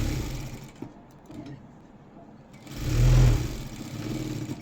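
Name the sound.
sewing machine stitching blouse lining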